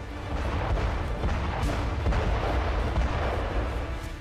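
Artillery fires destructively during the war in Ukraine, heard as a dense, continuous low rumble of booms and blasts with no clear gaps between them.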